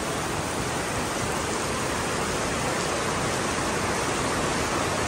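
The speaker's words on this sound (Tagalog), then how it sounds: "lakas lang na ulan." Heavy rain pours steadily at Sentosa, Singapore, a dense, even hiss that stays loud and unbroken throughout with no voices.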